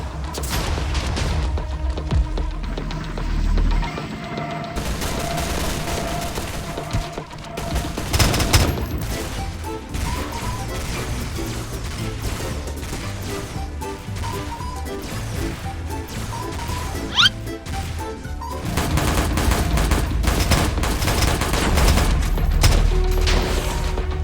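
A turret firing in a Minecraft Clone Wars battle, repeated shots, crashes and booms mixed with music and game effects, loud and busy throughout.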